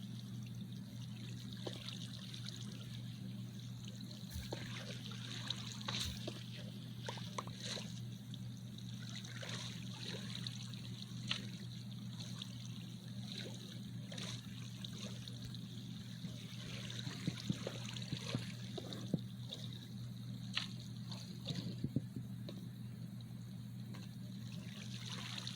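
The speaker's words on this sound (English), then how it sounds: "Why is there water there?" Flowing water trickles and burbles continuously in Minecraft Bedrock Edition, a steady, fairly faint stream with a low background hum and no talking.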